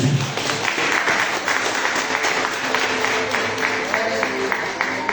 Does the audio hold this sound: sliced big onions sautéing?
no